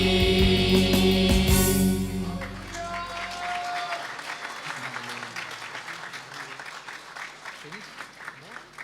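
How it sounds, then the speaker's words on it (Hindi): Congregation applauding the youth choir at a church Christmas celebration, clapping rising as a sung note ends and continuing as a steady patter while someone speaks over it. "बहुत सारी तालियां खुदावंद की तारीफ में"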